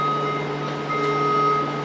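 An alarm sounding at an ice hockey rink during a senior game, a steady loud electronic tone with pulsing beeps that keeps going, heard over faint arena background noise.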